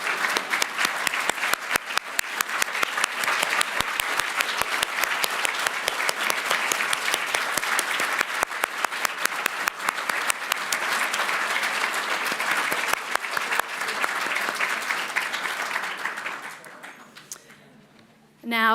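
An audience applauds the judges at the Prime Minister's Literary Awards 2025 ceremony: loud, dense, sustained clapping from a large crowd that carries on evenly and then tapers off near the end.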